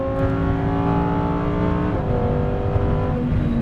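A GT3-class exotic sports car powering hard out of a track corner, its engine a loud, continuous high-pitched roar with steady harmonics that shift pitch midway as it changes gear, heard up close with no talk.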